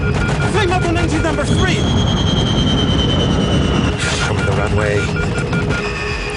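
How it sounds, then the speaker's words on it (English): Jet engines spooling down and shutting off on an Avianca 052 airliner running out of fuel, a loud roaring drone with falling whining tones. It is heavily layered with dramatized cockpit sounds and tonal effects. "The passengers can hear the sound of the engines beginning to shut down."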